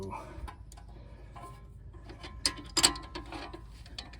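A crescent wrench works a bolt on a Nissan car suspension, giving a few sharp metallic clicks and clanks near the middle of the clip over quiet background noise.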